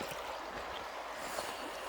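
Water rushes and drains away steadily near a parked campervan's overnight spot, a continuous broadband gurgling flow with no talk over it.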